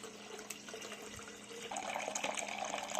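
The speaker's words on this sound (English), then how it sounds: "So I just add water and then mix it up and then fill up the bottles." Water pours into bottles to mix plant food, a soft continuous trickle that grows fuller and louder partway through, heard alone at low level.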